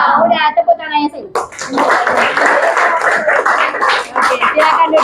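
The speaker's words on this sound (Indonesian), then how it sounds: "Udah, tepuk tangannya sih." Children in a classroom clap together in a dense burst of applause that runs to the end, preceded by a short stretch of talk and children's voices.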